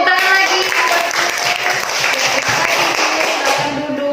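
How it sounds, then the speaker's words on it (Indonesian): Children in an Indonesian primary school classroom clap together in a sustained, fairly loud burst that tapers slightly toward the end, with some voices mixed in. "Iya, oke, tepuk tangan lagi"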